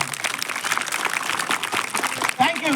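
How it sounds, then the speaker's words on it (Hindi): An audience at a school annual function applauds loudly and continuously, with a voice over a speaker system joining in near the end. "इसके लिए एक बार फिर जोरदार ताली दीजिए।"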